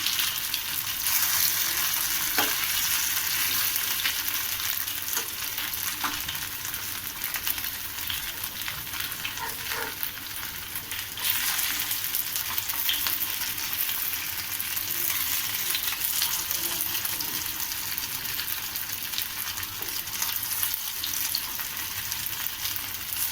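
Aloo poha cutlets shallow frying in a pan, a loud steady crackling sizzle lasting throughout, with occasional soft taps of a spatula and no talking.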